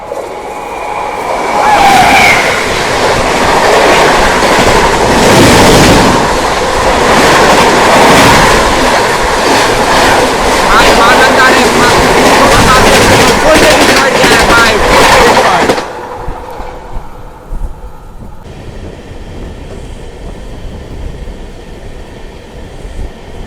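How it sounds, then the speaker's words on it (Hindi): The Mahananda Express, running from Alipurduar Junction to Delhi, roars past in the opposite direction close by, a loud rushing clatter of coaches for about sixteen seconds before it suddenly drops away to quieter rail noise. "सामने से आ रही है 15483 अलीपुरद्वार जंक्शन दिल्ली,"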